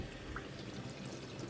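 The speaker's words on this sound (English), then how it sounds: "Rinse it off with hot water, let it air dry" Hot water running over a wooden cutting board being rinsed, a faint, continuous pouring and splashing wash that stays quiet and even throughout.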